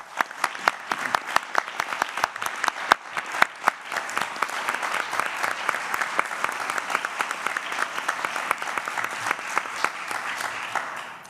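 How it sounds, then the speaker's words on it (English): An audience at a board meeting applauds for a departing chair, sustained steady clapping from many hands across the room, fairly even throughout with no talking over it. "So can we please give Joanne a round of applause?"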